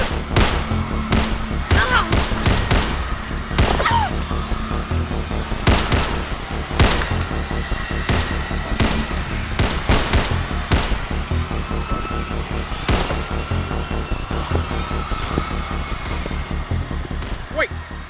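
Film shootout gunfire: repeated sharp, loud gunshot cracks in scattered bursts and volleys across the whole stretch, close and dense, with shouted voices mixed in.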